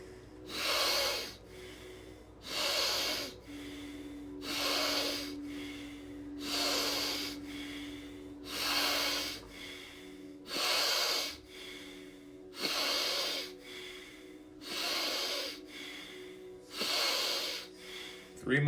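Someone does a breathing exercise with rapid, forceful breaths through the nose, close and rhythmic, roughly one every two seconds, while a faint steady hum sits beneath.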